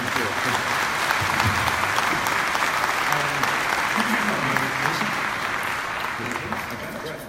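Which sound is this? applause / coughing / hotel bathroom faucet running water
applause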